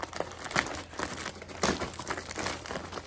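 Crinkling and tearing of a plastic shipping package being opened, close and fairly quiet, with a steady run of irregular rustles.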